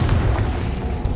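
A deep, booming blast from the Confringo spell in Hogwarts Legacy, one short low explosion with a rumbling tail.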